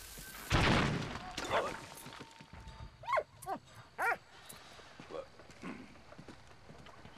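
A dog in the World War I video game Valiant Hearts gives several short, sharp barks and yelps spaced across a few seconds, with game music and other noises underneath.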